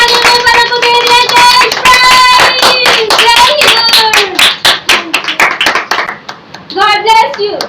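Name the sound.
applause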